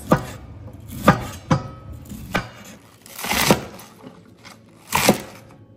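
A kitchen knife chops vegetables into long slices on a board for stir-fried rice noodles with shrimp; six or so separate sharp, close chops with short pauses and some scraping, no speech.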